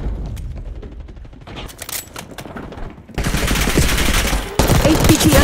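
Bursts of automatic gunfire from the Kompakt 92 in a video game match, loud and dense, with a pause and then a sustained volley continuing to the end.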